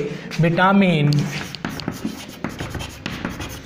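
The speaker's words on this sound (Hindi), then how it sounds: "लिखेंगे" Pen scratching on paper during a classroom revision lesson, a string of soft, uneven strokes close by that follows a short spoken phrase.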